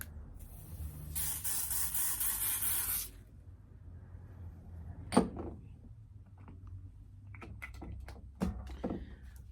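A short aerosol tint spray hisses onto a wig for a couple of seconds, followed by quieter handling sounds and a few light taps.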